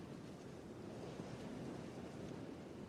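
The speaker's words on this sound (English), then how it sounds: "It is very windy out here." Strong wind blows steadily outdoors, a loud, continuous broadband rush buffeting the microphone with no letup, over a scene with crunchy leaves nearby.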